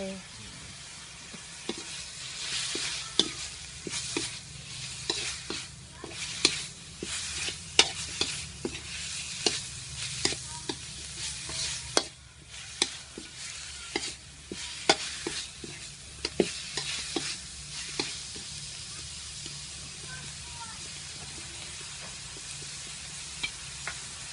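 A pot of khao poon simmers with added water and coconut milk while it is stirred, giving a low bubbling sizzle broken by repeated sharp clinks and scrapes of a utensil against the pot.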